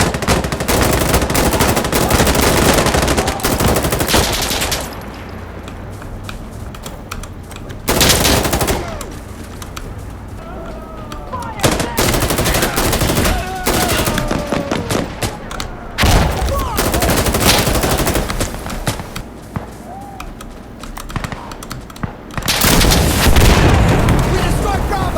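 Rapid automatic gunfire and bursts of shots from the video game Insurgency Sandstorm, loud and dense, with explosive booms and a few pauses between heavy firefights.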